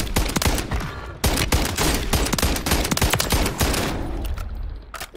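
Rapid bursts of automatic gunfire in Warzone 3, sharp repeated cracks in quick strings that keep going with hardly a pause, loud and close, ending in a short lull.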